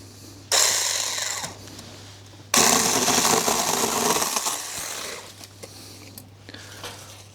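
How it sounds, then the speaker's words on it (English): A chainsaw buzzes in two bursts, a short one and then a longer, louder one, cutting through thick tree branches over a low steady hum. "There's a couple of thicker branches I now want to use the chainsaw on."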